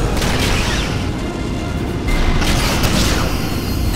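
A Romulan starship blowing up in the space combat game Star Trek: Legacy, a loud sustained rumbling boom with a fresh surge partway through, dense and roaring without clear pauses.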